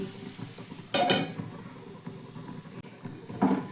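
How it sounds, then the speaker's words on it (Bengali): A lid is set onto a cooking pan while turmeric and salt are mixed in for a tiffin dish, giving a couple of sharp metallic clanks near the start and another knock near the end over faint kitchen noise. "এবার আমি ঢাকা দিয়ে দিচ্ছি"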